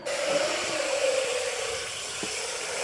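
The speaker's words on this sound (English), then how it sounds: "I'm gonna turn the water on." Water pours steadily from a tap with a constant hissing rush, close by and fairly loud, with no voices.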